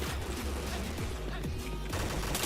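Rapid bursts of automatic gunfire from a shooting video game crackle continuously at close range, dense and steady throughout, with no clear talking.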